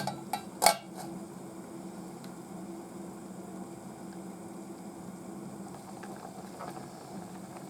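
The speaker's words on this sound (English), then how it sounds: "And then you can maybe put the lid back on." A metal lid is set back onto a pot of miso soup, giving a couple of quick clinks near the start, followed by a steady low hum with no talking.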